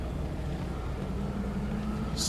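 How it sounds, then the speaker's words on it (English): Late-1990s Dodge V8 pickup truck engine idling rough as if missing a cylinder, a low uneven rumble running steadily throughout, close and moderately loud. "Sounds like it's missing a cylinder or something."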